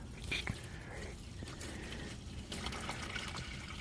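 Water trickles and dribbles out of a Ford F350 truck during a teardown, a steady wet flow with a few louder surges, close by.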